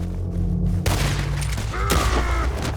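Sniper rifle shots ring out in the Red Dead Online video game: a sudden loud, close blast followed by a second sharp report about a second later, both over a steady rumbling background.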